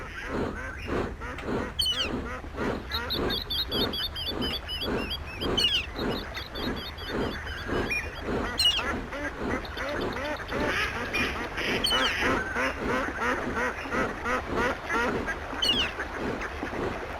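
Ducks in the OpenRails train simulator quack in a steady, rhythmic series of calls that repeats through the whole stretch, with high chirping and a low rumbling background underneath.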